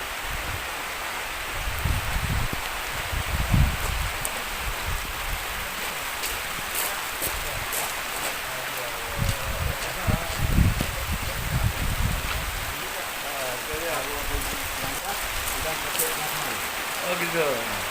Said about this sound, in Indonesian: Ini kita disambut dengan hujan nih teman-teman